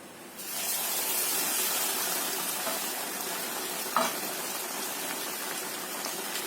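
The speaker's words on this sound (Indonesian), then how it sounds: "Kemudian kita siapkan minyak banyak untuk menggoreng." Food deep frying in plenty of hot oil, a steady close crackling sizzle that starts abruptly and holds evenly throughout, with one brief louder pop partway through.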